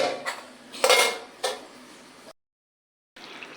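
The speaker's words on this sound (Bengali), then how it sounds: "এবার আমি ঢাকনা দিয়ে ঢেকে দেব।" A lid goes onto a cooking pot of fish curry with brinjal and potato, giving a few close clanks and scrapes, then brief silence before faint kitchen noise.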